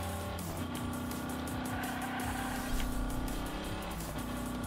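A Hot Wheels toy car racing and drifting in Hot Wheels Unleashed, its engine droning steadily with shifting revs and tire screech layered over game music, loud and continuous with no voices.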